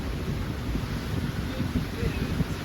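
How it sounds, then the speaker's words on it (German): Strong 25-knot wind in a heavy rain squall on a sailboat in the Caribbean buffets and roars against the microphone, a gusty low rumble with rushing noise throughout, sounding exposed and close. "Jetzt haben wir einen fetten Schauer. Wir haben 25 Knoten Wind."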